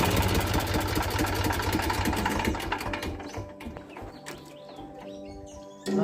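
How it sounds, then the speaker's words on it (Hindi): A tractor engine idles with a steady mechanical chug and dense rhythmic knocking, loud and close, then eases and thins out before a sudden loud burst at the end. "आज पहली बार ट्रैक्टर चलाया मैंने"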